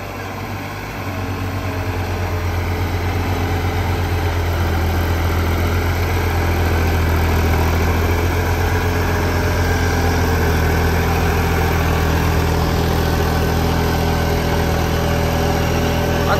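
A New Holland 3630 special edition tractor pulling an 8 ft Gurbaz Superseeder through a wheat field drones loudly and steadily, its engine hum and machinery noise constant with no talk.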